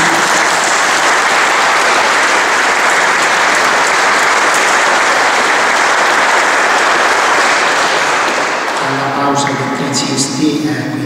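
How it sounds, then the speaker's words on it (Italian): Loud, dense applause from an audience gathered for a parish oratory renovation event, sustained clapping that fades near the end as a voice starts speaking. "facciamo un grande applauso sul quadrante"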